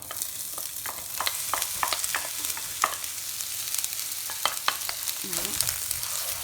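Onions and peppers frying in a pan crackle with a steady sizzle, while intermittent stirring clicks and scrapes sound up close.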